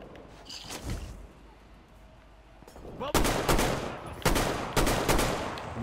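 Enemy gunfire in Metro Exodus: bursts of loud automatic shots at the start, a quieter gap, then heavier rapid volleys near the end, with someone talking faintly underneath.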